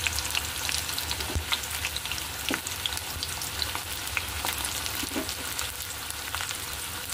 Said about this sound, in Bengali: চলুন এর মধ্যে আমি দিয়ে দিচ্ছি কুচনো পেঁয়াজটা